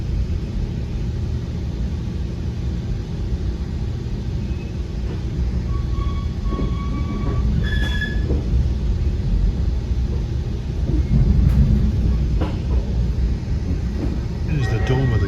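A VRE commuter train rumbles steadily into a tunnel on Amtrak-owned Washington Terminal trackage, with continuous low wheel and track roar, brief squeals, and a swell of louder rumble near the end, while a voice talks over it.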